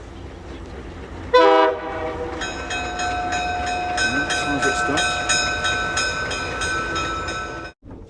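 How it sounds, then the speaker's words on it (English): A train horn on Peru's southern rail line near Puno sounds close by, first with a short blast and then a long sustained tone over the rumble of the moving train. "our train collected us from the end of the hotel drive"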